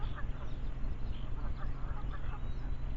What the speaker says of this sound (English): I don't know if you're picking the sounds up of the Canada geese and different birds